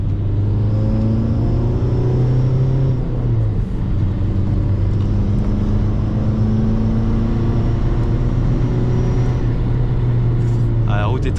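A SEAT Ibiza Cupra TDI diesel accelerates to overtake on a country road, its engine a loud steady drone that climbs in pitch, then drops briefly after a gear change and climbs again, heard from inside the car.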